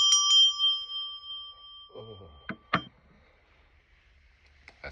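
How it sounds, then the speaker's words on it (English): A bicycle-style bell rings with two quick bright strikes at the start, its tone lingering, followed by brief scattered knocks and handling sounds, then a final faint ding near the end in an otherwise quiet room. "Ring the bell 444."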